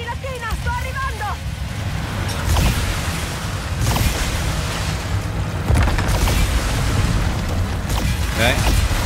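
Explosions from the Ratchet & Clank: Rift Apart video game erupt in heavy booms at intervals over a dense, continuous mix of rumbling, watery and mechanical game noise.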